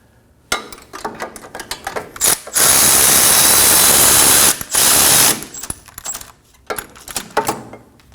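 Mechanic's ratchet tightening the hub bolts on a 2011-2016 Kia Optima during a front wheel bearing and hub job: close, loud mechanical whirring in several bursts, including two long sustained runs, with short clicking spurts before and after.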